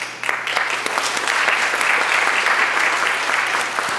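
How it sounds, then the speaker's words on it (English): A large audience at a healthcare gathering breaks into applause, a dense, sustained burst of clapping that swells and holds steady at close range for several seconds. "You all owe yourselves a round of applause."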